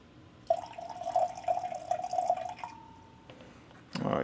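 Calcium hydroxide solution is poured into a container, a short thin trickle of liquid that runs for about two seconds, then stops, followed by a brief clatter; faint and close.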